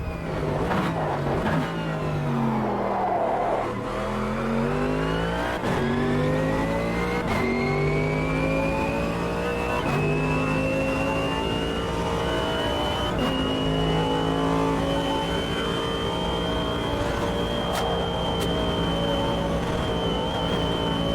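GT3 race car engine in the Automobilista 2 racing game, loud and continuous, with rising revs through the gears and a steady high-pitched drone as the car holds speed.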